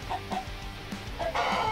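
Chicken in the Ultimate Epic Battle Simulator video game giving a quick series of short, clear clucks, close and fairly loud over a low background rumble.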